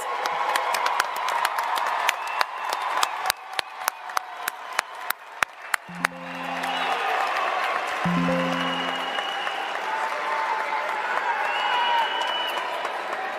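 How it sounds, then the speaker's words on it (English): Applause and cheers from an audience honouring college graduates: scattered sharp claps that swell into a sustained roar of clapping and crowd noise, broken by two short horn-like blasts. "One more round of applause for our graduates."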